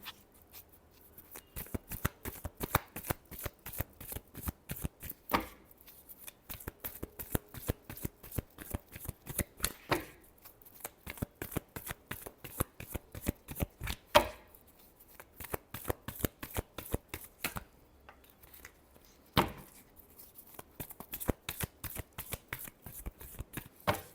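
Tarot cards being shuffled by hand: repeated riffling bursts of crisp card flicks in quick rhythmic runs, close and fairly soft, continuing for a long stretch with brief pauses.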